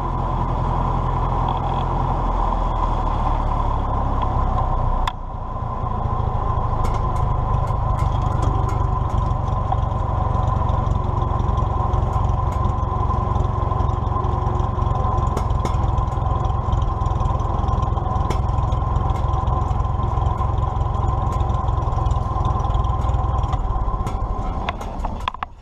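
A small engine idles smoothly and steadily at close range, its even low drone continuing for the whole stretch, with a brief dip early on and faint clicks over the top.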